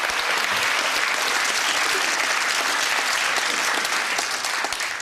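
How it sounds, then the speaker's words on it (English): Steady, dense applause from a crowd, continuous clapping at full volume for several seconds. "Round of applause, Shirley."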